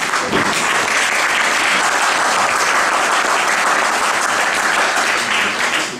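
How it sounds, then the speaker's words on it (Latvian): An audience at a women's ensemble celebration gives loud, sustained applause, a dense unbroken wash of clapping that holds at full strength for the whole stretch, with no voices over it. "arī Lolijai, bet ar tik skaļiem aplausiem, lai viņa Rīgā sadzird."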